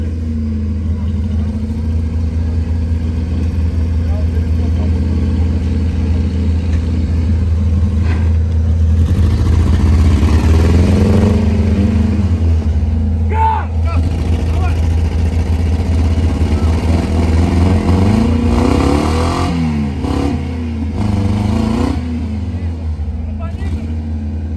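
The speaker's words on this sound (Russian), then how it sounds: "Странно работает мотор, но может быть это его нормальное состояние." An off-road car's engine runs steadily and loudly throughout, sounding a little irregular, with a low rumbling drone that swells and revs slightly midway, while people talk over it, at a trophy-sprint race.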